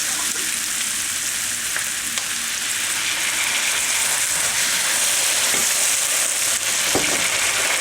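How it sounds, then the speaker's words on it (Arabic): Steady, loud sizzling and crackling of tomato sauce frying with vegetables in a hot pan for eggplant moussaka, continuous throughout with occasional small pops and stirring scrapes. "ابتدي احط الصلصه"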